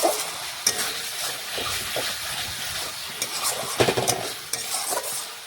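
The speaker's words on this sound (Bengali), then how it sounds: "আমি আলুগুলো মশলার সাথে ভালোভাবে একটু রান্না করে নিচ্ছি" Pre-fried potatoes cook with spices in oil in a pan, a dense crackling sizzle broken by repeated spatula stirring scrapes and knocks, loud and close, with no speech.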